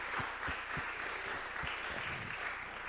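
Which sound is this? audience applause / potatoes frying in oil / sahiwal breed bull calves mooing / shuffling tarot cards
audience applause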